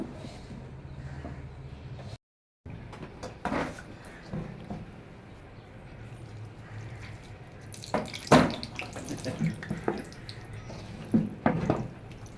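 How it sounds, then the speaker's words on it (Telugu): Water trickles and splashes intermittently for several seconds as it is poured a little at a time into gram flour dough, with brief clattering bursts and a short silent gap near the start; no talking. "కొంచెం కొంచెం వాటర్ వేస్తూ"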